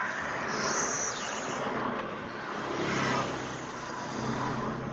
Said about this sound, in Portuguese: Ouço barulhos de carro se movimentando